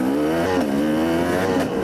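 An enduro motorcycle pulls off along a dirt trail, its engine note holding a steady, close buzzing drone with slight pitch wobble as the rider gets underway.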